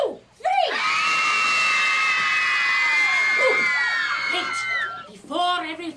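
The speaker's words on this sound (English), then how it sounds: "Everyone, on the count of 3, I need everyone to scream." Children scream together on a count of three in one long, loud, sustained shriek lasting several seconds, with a voice heard before and after.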